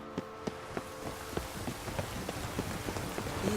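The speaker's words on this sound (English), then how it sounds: "It's raining, of course it's going to be." Rain in The Witcher 3: Wild Hunt, a soft, steady patter of drops on surfaces with scattered sharper taps and faint footfall-like knocks mixed in, quiet and continuous throughout.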